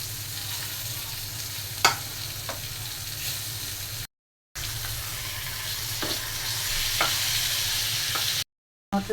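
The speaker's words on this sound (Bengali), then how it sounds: "আর বেগুন ভাজা হচ্ছে, তেলাপিয়া মাছ ভাজা হচ্ছে" Eggplant and tilapia fish fry together in hot oil, giving a continuous loud sizzle with occasional crackles and spatters. The sizzle cuts out briefly twice.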